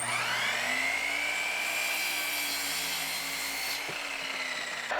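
A wooden board being cut to length with a power saw for DIY saw horses, a loud, steady whining cut running almost the whole time and winding down near the end, with no talk.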